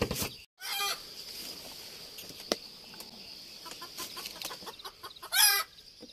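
Chickens cluck softly around a rural forest farm hut, with a few short calls and a sharper burst near the end over quiet background noise.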